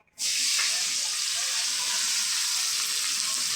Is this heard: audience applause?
no